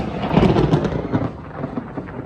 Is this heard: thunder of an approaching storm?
yes